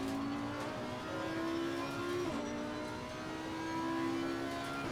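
Mercedes-AMG race car in Assetto Corsa Competizione, a steady, loud engine drone holding high revs with a brief pitch dip mid-run as it shifts, accompanied by whining drivetrain tones.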